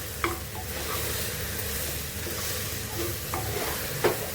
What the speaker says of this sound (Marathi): आणि ही भाजी ना आता चांगली त्या तेलात परतायची